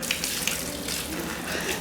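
Water sprays and patters into a mountain horned lizard enclosure, a steady hissing rain-like shower lasting under two seconds.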